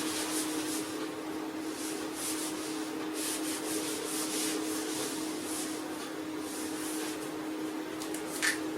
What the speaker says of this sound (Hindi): चलिए मैं इसे रब कर देता हूँ।